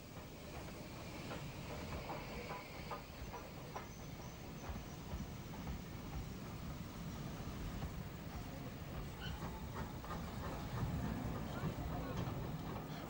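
A Warship-class diesel locomotive hauls a train from Exeter, heard as a steady rumbling roll with faint wheel clatter, moderately distant and fairly quiet, building slightly toward the end.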